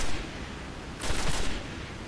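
A quick rattling burst of weapon fire from the shooter game Destiny sounds over a steady, noisy game background and lasts about half a second.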